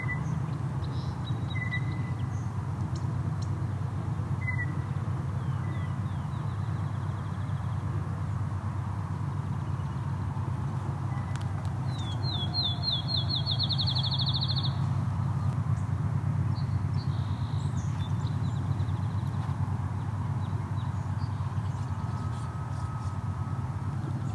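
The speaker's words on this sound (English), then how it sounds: "Field sparrow, very loud." A field sparrow in an open grassy field sings loudly and close by: a run of clear whistled notes that speeds up into a rapid trill. A fainter song comes earlier, over a steady low outdoor rumble, and no one speaks.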